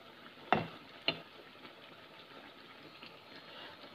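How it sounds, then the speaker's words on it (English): Vada frying in oil in a kadai, a faint, steady sizzle with a couple of sharp pops or clinks near the start and a soft crackle through the rest. "We have to fry this vada until it becomes crisp"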